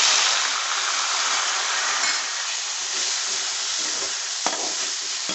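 Small onions and tomatoes, salted, fry in a pan for okra sambar, producing a loud, steady, close sizzle with faint stirring clinks and no voices.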